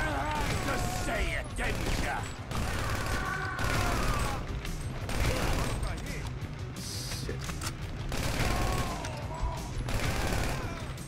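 Sustained gunfire from a Grand Theft Auto V rampage, dense repeated shots running loud and continuous throughout, layered with game effects and a talking voice.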